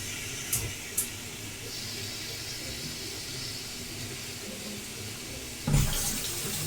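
Tap water runs steadily into a kitchen sink during a quick hand rinse, a soft continuous hiss and splash with a couple of faint clicks and a louder splash near the end.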